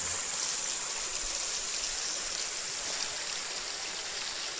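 A small river flows steadily in the morning where fish traps are checked, a soft, constant rushing hiss with no breaks and no talk.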